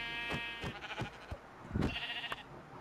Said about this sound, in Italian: Povera pecora.